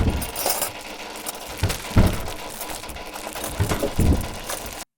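Unprocessed recordings of short impacts and textures are layered into a dense, continuous clatter of metallic clinks, jangles and glassy hits. Sharper strikes recur irregularly before an abrupt cutoff.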